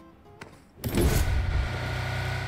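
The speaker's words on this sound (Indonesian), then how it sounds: "Ada suara mobil." A car engine in PUBG Mobile kicks in abruptly and loud after a brief quiet, then settles into a steady, close rumbling hum.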